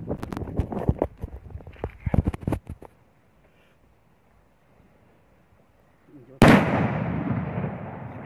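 New Year's Eve fireworks at close range: several sharp blasts in the first seconds, then a quiet gap, then a loud sustained roaring burst near the end; Italian voices talk beforehand.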